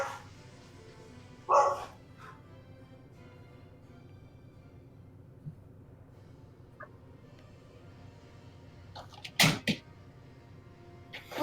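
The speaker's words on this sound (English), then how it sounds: "I take it you guys heard Hype Dog" A dog barking indoors, a couple of short bursts with a quiet gap between them, moderately near over a faint background hum.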